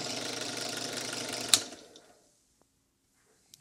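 A drill bores through a bronze chain plate on a boat, giving a steady, loud whirring grind for about a second and a half. It then spins down and stops, and a few faint clicks follow in the quiet.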